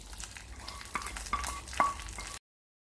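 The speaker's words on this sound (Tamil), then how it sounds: "கடுகு, காஞ்ச மிளகாய், ஒரு 7 மிளகு, கருவேப்பிலை, அடுப்பா பண்ணிடலாம்" Mustard seeds, dried chillies, black pepper and curry leaves temper in hot oil with a brief crackling sizzle and a few sharp pops and stirring scrapes before it cuts off abruptly.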